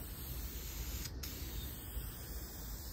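Spray is applied onto the frame of a Triumph TR6 soft top, a steady close hissing spray that continues without break for about three seconds.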